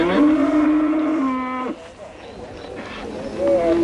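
Cow at a market fair, a loud, close, drawn-out moo lasting over a second, followed by quieter murmuring and a second shorter low call near the end.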